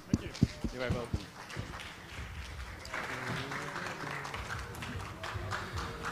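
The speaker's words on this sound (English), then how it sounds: "Get a round of applause for Ulf, please." An audience at a Bitcoin conference stage panel applauds a speaker taking the stage, starting with a few sharp individual claps before swelling into moderate, steady clapping, with a voice talking over it.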